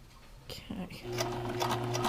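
A sewing machine back-stitches and then runs forward on window screen material, a brief mechanical hum starting after a few handling noises and continuing under faint background sounds.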